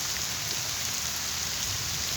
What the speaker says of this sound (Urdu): اس ٹائم کافی زیادہ تیز بارش ہو رہی ہے